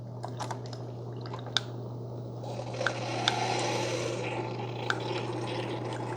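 A Cuisinart SS-12 coffee maker brews coffee from a K-Cup funnel, trickling and streaming steadily into a cup, with a constant low machine hum underneath and a few small drips and clicks.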